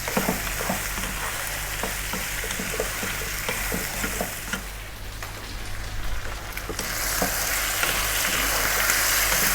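Chicken stew ingredients sizzle and fry in a pan over medium heat, a close, continuous crackle with scattered pops and a few stirring scrapes, briefly softening midway before rising again.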